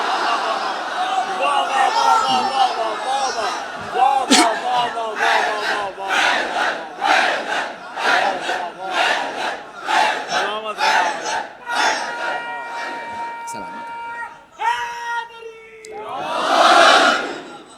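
A large gathering at a Muharram majlis in an imambargah chants slogans in loud, rhythmic unison. Waves of voices rise and fall for several seconds, ending in a big swelling shout.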